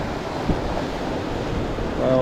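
Rough sea surf on a small fishing boat, a steady broadband wash of waves and wind noise over the microphone that holds at a constant level for the whole stretch.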